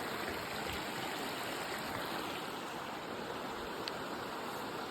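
Creek water flows along a wooded stretch of the Appalachian Trail in Maryland, a steady, close, broadband rush that continues unbroken with no voices.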